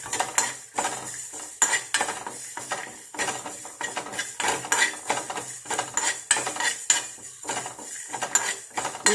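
A spoon stirring and scraping curry leaves and spices roasting in a metal pan, steady clattering strokes and clinks throughout, near and fairly loud with no voice.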